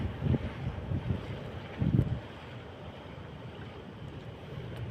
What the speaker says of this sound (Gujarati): અમારો દરિયો ઘૂઘવાટા કરતો હોય